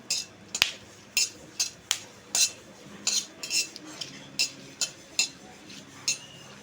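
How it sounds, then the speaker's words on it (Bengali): Bay leaves and whole garam masala are stirred in a pan for chicken korma, a spoon striking the metal in a steady series of sharp, close clinks and scrapes over a faint background sizzle. "দিয়ে তেজপাতা আর গরম মশলাটা একটু ভেজে নেব।"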